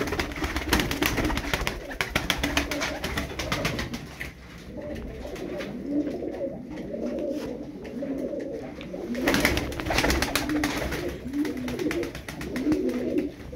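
Light-coloured play pigeons coo repeatedly in a group, throaty rolling calls overlapping close by with steady background rustle throughout.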